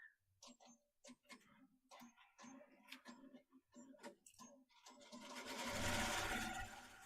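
A Melco Summit embroidery machine stitches a quilt label. Scattered clicks and taps come first, then the stitching builds into a loud, steady, rapid mechanical whir close by.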